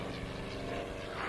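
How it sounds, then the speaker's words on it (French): A seaplane engine in a radio drama sound effect drones steadily as the aircraft descends: a continuous propeller hum, moderately loud and unchanging, with no voices over it. "l'hydravion de l'aurore."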